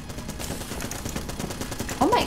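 Rapid gunfire from a big gun in the twin-stick shooter Enter the Gungeon, a dense burst of game shots running throughout and swelling louder near the end.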